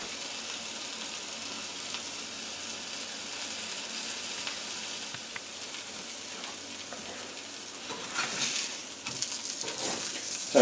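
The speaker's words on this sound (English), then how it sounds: "You can hear that sizzle." Homemade chicken jalapeno sausage sizzles steadily in a frying pan, a continuous crackling hiss up close that swells a little louder near the end.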